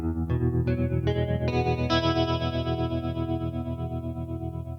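Electric guitar through a Boss Katana-50 amp with a modulation effect whose knob is being turned up, a run of picked notes building into a sustained, warbling chorus-like chord that swells and slowly fades, loud and close.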